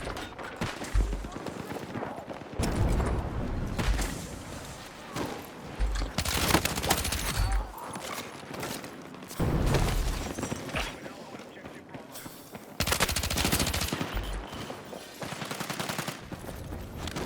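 A suppressed SGX submachine gun with a light barrel and 36-round magazine fires in Battlefield 6, in repeated bursts of rapid muffled shots separated by short pauses, with a voice talking over parts of it.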